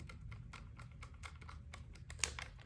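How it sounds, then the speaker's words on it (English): A slip torque limiter driver clicks as it snugs down screws on a Walther PDP optic plate, giving a run of quick, light, close ticks with one sharper click near the end. "you can kind of hear it clicking there, but it'll actually just slip"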